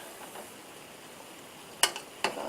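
Frittata stuffing is stirred in a large, very full pan: a soft scraping and sizzling bed, then two sharp utensil knocks against the pan near the end.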